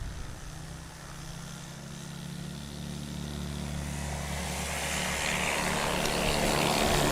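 A STOL airplane's propeller engine drones steadily during a practice takeoff at a Sodbusters STOL competition in Hartford, Wisconsin, with a low hum that swells gradually louder and nearer over several seconds, no voices.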